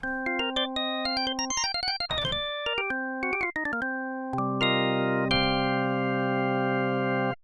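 Synthesized organ, built in Phase Plant with percussion on, plays quick ascending runs and held chords, each with a bright percussive attack that decays into the tone, loud and alone.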